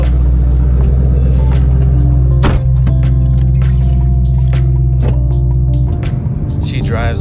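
A 2010 Ford Mustang with a newly installed stage 2 clutch drives on a test run, its engine a steady, loud, close rumble throughout with some wind and road noise and a shift in tone near the end.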